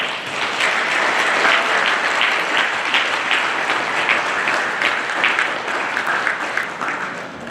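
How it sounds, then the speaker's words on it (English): A big round of applause for the debaters at an FSM Law Day 2019 event: a dense, sustained crowd clapping that holds loud and even for several seconds, tapering only slightly near the end. "let's give our debaters a big round of applause"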